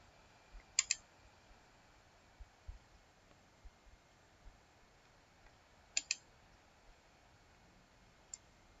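A computer mouse clicks faintly in a quiet room: a sharp double click, then a long pause, another double click, and a single click near the end.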